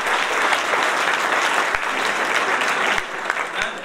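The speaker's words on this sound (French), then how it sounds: "On peut l'applaudir un peu." A crowd at a New Year's greetings ceremony applauds a newly introduced man named Bruno, with sustained, dense clapping and a few sharper individual claps standing out near the end.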